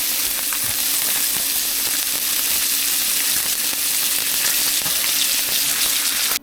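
Black drum fish frying in warm, seasoned butter and oil, a steady close hiss and crackle of sizzling fat that holds evenly throughout with no talk.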